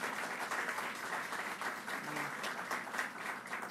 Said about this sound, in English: let's give a round of applause for both of them